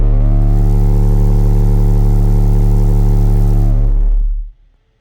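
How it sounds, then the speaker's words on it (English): Car audio subwoofers, 3 CT Sounds Meso 8-inch drivers on an AT 2300.1 amplifier, blast a steady 36 Hz bass tone at just over 2,000 watts for about four seconds, loud and droning, before cutting off abruptly. "This is at 36 hertz."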